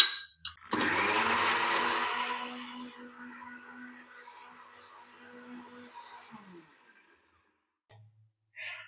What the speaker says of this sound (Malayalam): ഇതെല്ലാം കൂടി ഒന്ന് മിക്സിയിൽ നന്നായിട്ട്